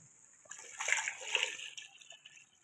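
Water splashes and sloshes into a pot of cooking mutton nihari for about a second, a close, bright pouring burst that trails off into quieter dribbles.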